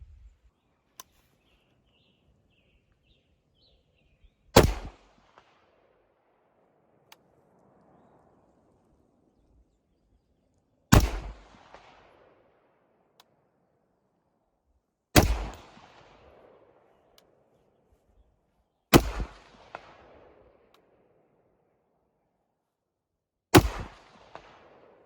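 Five rifle shots fired from a standing position at a 200-yard target on an outdoor range, each a sharp loud crack spaced several seconds apart with a short decaying tail and quiet between.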